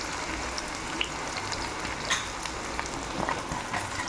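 Raw banana pieces fry in groundnut oil with a close, steady crackling sizzle, a few small pops and light stirring taps rising above the even bubbling.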